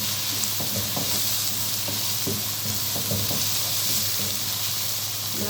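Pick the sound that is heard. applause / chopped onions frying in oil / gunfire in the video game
chopped onions frying in oil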